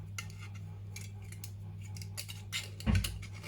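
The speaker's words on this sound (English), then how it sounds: "And then you just want to snip that bit off." Scissors snipping through tin can metal while shaping a craft poppy, a series of close, sharp metallic clicks and scrapes ending in a louder final cut.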